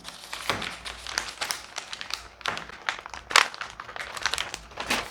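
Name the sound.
cutting a sewing pattern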